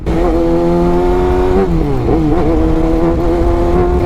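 A Kawasaki Ninja ZX-6R 636cc motorcycle engine pulling hard in third gear while riding uphill, a loud steady whine rising and dipping through revs close to the rider, with wind rush underneath.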